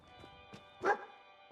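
A single dog bark from a Fallout 4 companion dog, fairly close and clear, rising over a faint game ambience with a couple of soft earlier yips.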